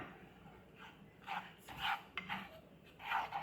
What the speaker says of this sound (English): And now we're going to stir this over on medium heat